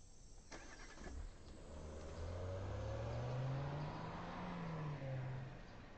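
A car engine starts and the car pulls away. The engine note climbs and swells steadily, close and fairly loud, then eases slightly near the end, with no voices.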